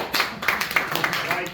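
Applause from a small open mic comedy audience, a short burst of scattered hand claps under a comedian's speaking voice.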